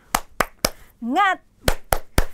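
Children at a PAUD preschool clap out a rhythmic spirit clap, with three sharp claps, a short sung call in the middle, then three more claps in the same pattern.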